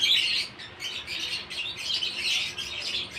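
Hand-fed baby parrots at feeding time make a continuous high, raspy chirping chorus, close and fairly loud, with no talking over it.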